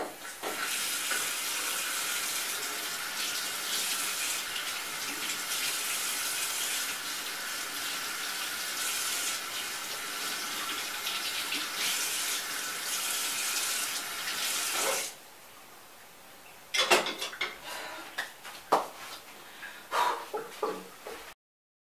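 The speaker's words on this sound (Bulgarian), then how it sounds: "И след като се нахраних, е време да се измия чинията." A kitchen tap pours steadily into a sink while a plate is washed, a loud continuous rush for about fifteen seconds, then it stops and gives way to scattered clinks and splashes of handling dishes.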